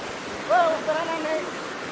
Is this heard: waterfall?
yes